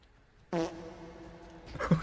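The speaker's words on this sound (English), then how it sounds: "The farting is never gonna end." A drawn-out, buzzy fart-like sound with a steady low tone in a chaotic game, lasting over a second at moderate level, followed by a brief louder burst near the end.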